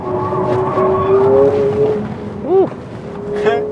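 A high-revving Ferrari Luce engine whines and climbs through gears, with sharp rises and drops in pitch, loud and close.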